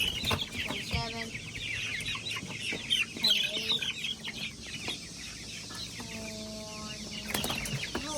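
Three-week-old chicks in a barn with wood chips and automatic feeders cluck and peep in scattered bursts, some close and sharp, others farther off, with soft rustling between calls.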